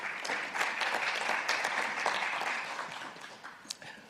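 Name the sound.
seminar audience applause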